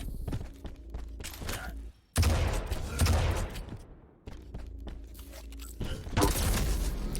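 Weapon fire in a Quake Pro League match between Xron and k1llsen comes in a few sharp, separated shots and bursts, with mechanical clanks and thuds between them, moderately loud.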